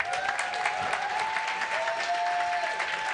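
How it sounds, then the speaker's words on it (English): Audience at an awards ceremony clapping steadily, a dense, sustained round of applause from a large crowd with no pauses. "keep that rounds of applause going for all of the nominees and all of the winners"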